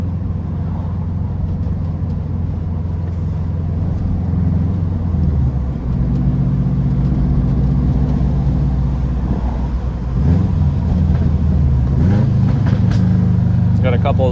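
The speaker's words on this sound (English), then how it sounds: "Got a couple downshift pops." A Subaru WRX hatch with an EJ25 engine and a 20G turbo drones loudly and steadily, with engine pitch dropping and rising through downshifts and brief exhaust pops near the end, and a voice talking underneath.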